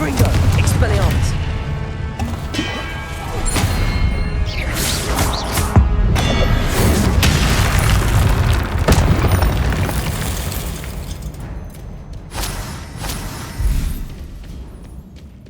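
Confringo blasting spells from the Hogwarts Legacy video game go off in a chaotic duel, repeated loud booms and crashes layered over steady combat noise, with voices shouting throughout.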